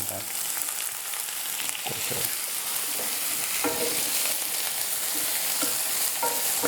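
Sliced onion sizzles in a hot pan for Indian cooking, with a continuous frying hiss and repeated scraping, clattering strokes as it is stirred; no one speaks.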